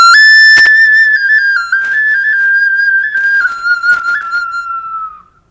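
An ancient pre-Columbian face-shaped clay whistle from Colima sounds a loud, pure tone that wavers and steps down in pitch as the eye holes are opened and closed, with breathy bursts, then fades out.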